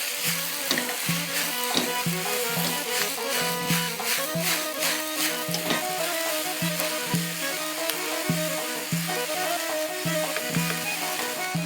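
Onion and garlic fry in a pan, a steady close sizzle with rhythmic scraping and stirring knocks throughout.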